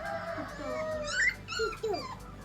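A Doberman puppy whimpers close by in a series of high, wavering whines and short yips, with faint background noise.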